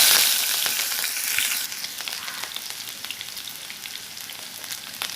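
Chopped onion and whole spices with panch phoron fry in hot oil for a singara filling, a loud bright sizzle at first that settles into a steady crackle with small pops, and no one talking.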